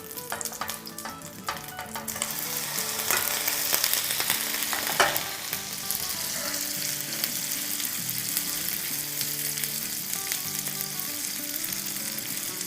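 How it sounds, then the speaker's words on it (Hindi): Food fries in melted butter in a pan, a loud, continuous close sizzle with crackling that swells slightly midway and carries on steadily to the end, with no talking. "तो यहाँ बटर हमारा मेल्ट हो गया है, तो इसको अब फ्राई कर लेंगे।"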